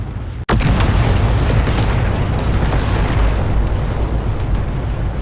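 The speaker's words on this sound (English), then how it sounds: "We just saw some of the buildings detonate" Buildings detonating in a World of Tanks-style tank battle replay: one sharp blast opens a loud, sustained roaring explosion that fills the whole stretch, dense and close, with no voices.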